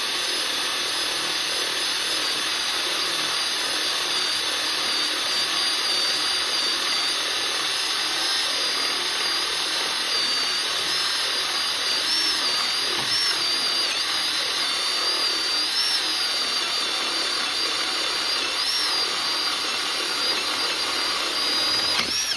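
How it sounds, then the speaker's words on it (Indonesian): A Gtools GT12P cordless drill driver bores through wood with a 25 mm spade bit, giving a loud, continuous whirring grind that holds steady for over twenty seconds with a persistent high whine. "untuk mata bor kipas 25 mili masih sangat mudah ya sob"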